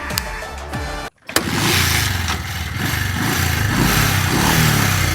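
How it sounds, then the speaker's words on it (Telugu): A motorcycle engine, briefly quiet, then cranked and fired into a steady, loud idle with a throbbing beat, close by. "బైక్ అయితే స్టార్ట్ చేద్దాం. చూడండి ఇంజిన్ క్వాలిటీ కూడా."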